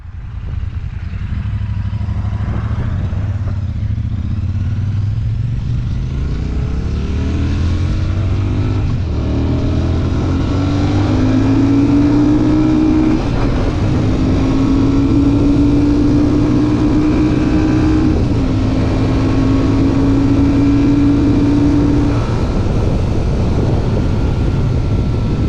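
A Royal Enfield Super Meteor 650 cruiser pulls hard through several gears, its engine rising in pitch, dropping at each shift and climbing again, loud and continuous with heavy wind rush on the road.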